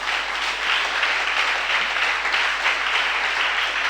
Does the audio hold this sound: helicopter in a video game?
no